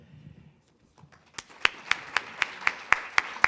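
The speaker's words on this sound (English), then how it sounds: "we have to give a loud applause to the colleagues who are presenting" Steady, evenly spaced hand claps ring out close by at a university research week gathering, starting after faint murmuring and settling into a regular rhythmic beat.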